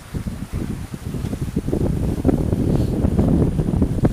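Gusty wind on a sailboat buffets the microphone in low, uneven rumbles that build and grow stronger over a few seconds, with no voices.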